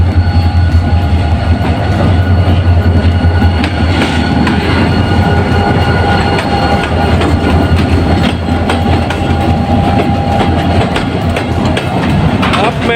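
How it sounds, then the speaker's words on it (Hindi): Shalimar Express train pulling into a railway station, a steady loud rumble of wheels and carriages with clacking rail joints and occasional squeals, continuous throughout with faint voices in the background. "अब में 27 शालीमार एक्सप्रेस राइट टाइम चली हुई है, सामने आ गई है।"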